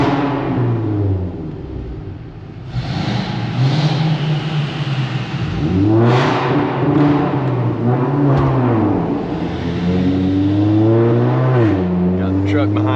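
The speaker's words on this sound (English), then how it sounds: "See if we can get you guys some of this launch control." Volkswagen GTI held on launch control, the engine revving loudly and repeatedly in rising and falling surges with steady harmonics, close by and continuous.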